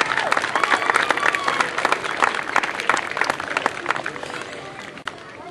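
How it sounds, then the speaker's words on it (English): A crowd at a Little League opening day claps loudly in a steady burst of applause that fades slightly toward the end. "give all of those folks a round of applause"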